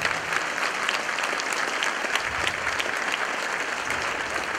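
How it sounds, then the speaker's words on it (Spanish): Congregation at a Catholic healing service applauding, a steady, even wash of many hands clapping at moderate level that continues without pause, with no voices standing out. "Gloria a Dios, un aplauso para el Señor."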